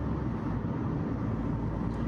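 Dacia Sandero petrol car accelerating gently in eco mode while being run in, a smooth, steady low engine drone heard from inside the cabin.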